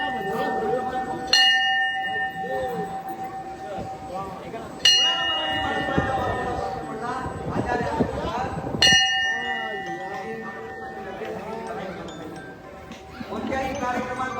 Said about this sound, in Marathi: घंटा बजो, जोर से बजो।